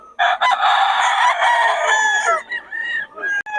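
A rooster crows loudly at a market in Bocaue, one long strained cock-a-doodle-doo close to the microphone, followed by a few shorter clucks and broken calls as it trails off.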